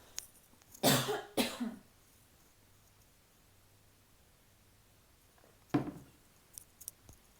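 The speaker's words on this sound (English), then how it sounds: "excuse me, I need to cough." A person coughs twice in quick succession, close and loud, then after a quiet pause coughs once more, followed by a few faint small throat and rustling sounds.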